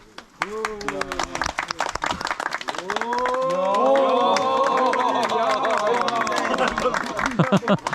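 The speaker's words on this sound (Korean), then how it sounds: "박수." A group at a fishing club event claps in sharp, scattered beats while many voices chatter and call out over it, the clapping growing denser toward the end.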